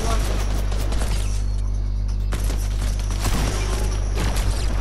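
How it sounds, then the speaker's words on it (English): Rapid Fortnite gunfire crackles through a dense, steady game mix, with volleys of shots piling up across the whole stretch and players talking over the battle. "Who's shooting us?"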